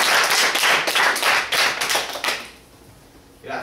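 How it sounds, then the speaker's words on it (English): A class applauding a student before his talk, with brisk, dense clapping for about two and a half seconds that stops abruptly and leaves near quiet. "let's give a round of applause to Andrew."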